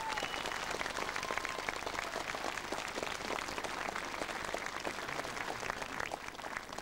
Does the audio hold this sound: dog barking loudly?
no